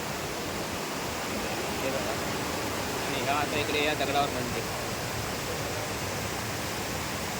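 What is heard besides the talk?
strongly flowing water near temple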